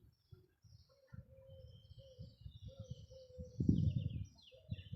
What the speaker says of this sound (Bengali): সবসময় পাখির কিচির মিচির শব্দে ভরপুর থাকে।